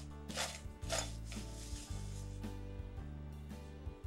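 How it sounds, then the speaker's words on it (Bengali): Hot boiled potatoes with spices for aloo chaat, shaken and tossed in a bowl rather than mixed by hand, giving soft rhythmic rubbing and scraping bursts over a low steady hum. "এভাবে একটু ঝাঁকি ঝাঁকি মেখে নেবেন, হাত দিয়ে মাখার কোনো দরকার নাই।"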